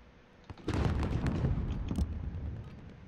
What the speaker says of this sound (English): I forgot I have a sniper rifle I can try out now.